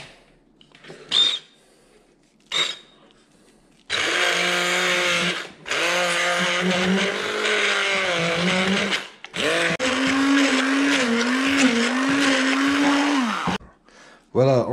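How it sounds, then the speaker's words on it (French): An immersion blender purees avocado with shrimp and Saint Môret cheese for a verrine, with a few short pulses followed by long, loud, whirring runs whose pitch dips and rises as the blades work through the mixture. "Ensuite, on prend le mixeur plongeant."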